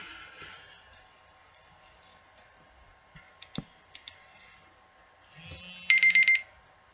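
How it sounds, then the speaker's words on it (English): A timer alarm goes off with a rapid burst of pulsing electronic beeps near the end, following scattered faint clicks and taps in an otherwise quiet room. "that's my timer"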